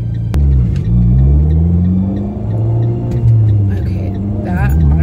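An Abarth with a manual gearbox pulls away from a stop, its engine rumbling low and rising steadily as it takes off, with a voice talking over the drive.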